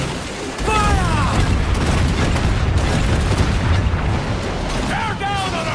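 Pirate ship cannons fire in the Assassin's Creed Black Flag video game, giving repeated heavy booms and rumbling blasts over a sustained roar, with faint whistling streaks and no talk in the clip.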